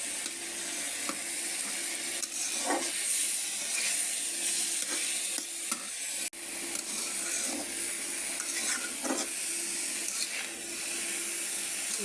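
Garlic sizzling and frying in a hot pan, a steady soft hiss with occasional stirring clatter, fairly quiet and heard without talk.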